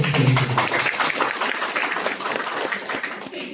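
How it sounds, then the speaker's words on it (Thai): An audience at a health product seminar breaks into applause, a dense burst of many hands clapping close by that holds steady for several seconds before easing slightly. "ปรบมือให้"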